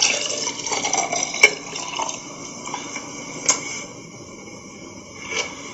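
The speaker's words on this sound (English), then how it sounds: "Now we're going to pour this juice into this glass." Juice is poured into a glass with soft trickling and splashing liquid sounds, punctuated by a few light clinks, fairly close and without talk.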